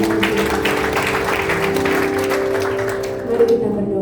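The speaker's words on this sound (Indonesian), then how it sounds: "Kita beri tepuk tangan untuk Yesus." A church congregation at a Sunday worship service claps for Jesus, loose scattered applause blended with sustained musical tones and murmuring voices, thinning out near the end.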